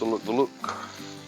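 Chicken bites sizzle on a Blackstone griddle while being stirred, a soft crackle with brief scraping, briefly overlapped by a tonal voice-like sound at the start.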